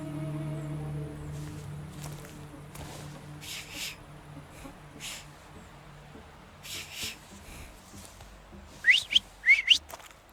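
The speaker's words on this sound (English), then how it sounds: "So, have you mastered whistling?" Whistling in the video game The Thaumaturge: a few short, rising whistle chirps near the end, loud and close, over a low hum and soft background noise.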